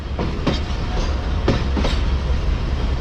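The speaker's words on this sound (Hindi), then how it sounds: "तो मेन प्लेटफॉर्म यानी प्लेटफॉर्म नंबर 2 की तरफ बढ़ रही है हमारी ट्रेन इस वक्त।" Passenger express train rolling toward the main station platform, with a steady low rumble and a few sharp clicks from wheels over rail joints, close and continuous throughout.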